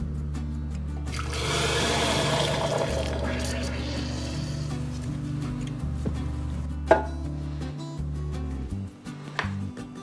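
A toy car dropped into a container of caustic soda and water, giving a sustained rushing, splashing pour of liquid over a steady low hum, followed by a couple of sharp knocks near the end, close to the microphone.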